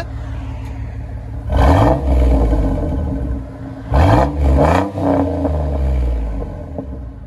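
A Chevy Silverado with a 4.3L V6 and side pipe exhaust idles with a low, loud rumble, then revs sharply three times: one single rev, then a quick double rev, each settling back to idle.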